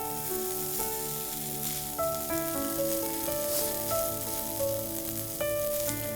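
Rice cooks in a pan over a slow flame, giving a steady, close sizzle under soft background music, with no talking.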